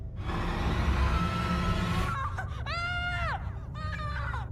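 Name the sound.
man screaming loudly in horror film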